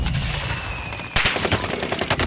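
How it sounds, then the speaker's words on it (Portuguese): Rapid automatic gunfire from the video game Call of Duty: Modern Warfare, dense bursts of shots loud and close, intensifying into sharper repeated cracks partway through, with no talking. "os caras estão atirando muito aqui"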